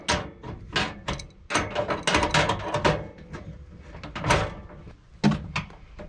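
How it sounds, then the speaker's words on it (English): A speed wrench ratcheting on a fastener of a 2019 Rockwood 2280BHESP pop-up camper furnace, giving a close, repeated series of clicking, rattling turns in irregular bursts with no talking. "Speed wrench."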